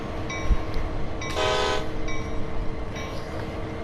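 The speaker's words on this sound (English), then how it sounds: "Oh, that horn. There you go, an SD40-2. A Co diesel electric locomotive." SD40-2 six-axle diesel-electric locomotive in Train Sim World 2, sounding one loud, short, multi-tone horn blast over a steady rumbling cab and rail noise, with fainter horn echoes before and after.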